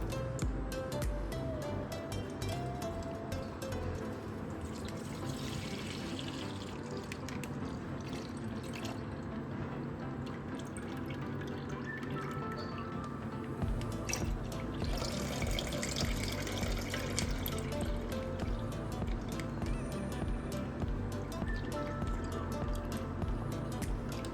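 Water runs steadily from a tap into a pot on the stove, a continuous splashing stream that holds for the whole stretch with no talking.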